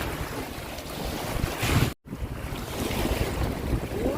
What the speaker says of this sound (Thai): คลื่นกำลังมาเลย